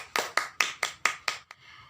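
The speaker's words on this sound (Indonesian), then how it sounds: "Kita beri tepuk tangan dulu." A classroom round of applause with six sharp, evenly spaced hand claps close by, followed by a single fainter tap and quiet room tone.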